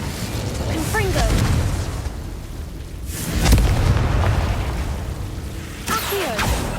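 A Confringo explosion spell cast in Hogwarts Legacy: a heavy boom bursts out mid-clip, then a rumbling tail fades. It sits within continuous game ambience and a few lighter whooshing spell effects.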